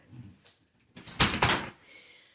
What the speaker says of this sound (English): when you come in the front door